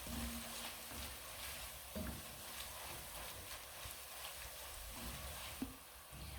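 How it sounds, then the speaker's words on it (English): Whole spices fry in a pot for beef pilau, giving a steady, soft, close sizzle and crackle with a few faint clinks, and no voices. "I'm going to be cooking these spices for 2 to 3 minutes."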